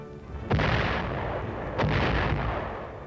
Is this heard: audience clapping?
no